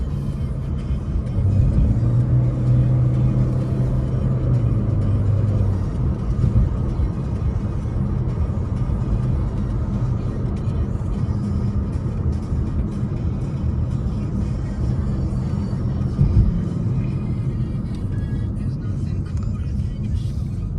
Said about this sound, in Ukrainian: Так, виїхали, щоб проїхати з цим автомобілем трішки.